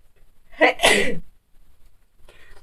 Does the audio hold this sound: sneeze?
yes